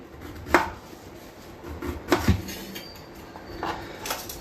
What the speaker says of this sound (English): So I need to chop this fine so that the cooking time with other ingredients are balanced.